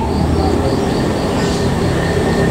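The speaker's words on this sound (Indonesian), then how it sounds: "kereta pertama yang akan melintas yaitu kereta api Lodaya Pagi" Lodaya Pagi passenger train passing near Kiara Condong, Bandung, a loud steady rumble of rolling wheels and rail noise filling the whole stretch without break.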